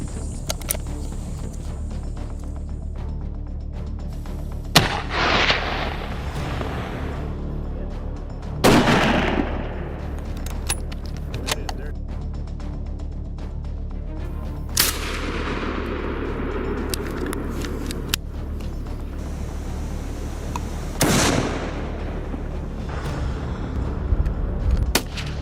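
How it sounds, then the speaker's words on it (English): Several sharp rifle shots from a 30-06 Springfield hunting rifle in rough outdoor terrain, four or so loud reports spaced seconds apart, each with a short trailing echo over a steady low background rumble. "The type of gun commonly used in black bear hunting is the 30-06 Springfield compound rifle"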